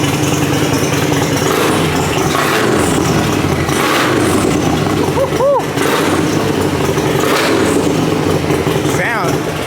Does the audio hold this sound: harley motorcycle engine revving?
yes